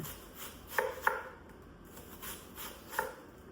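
A knife slices an onion on a cutting board during dicing, giving a few quiet, crisp cuts: two close together early, then one more after a pause.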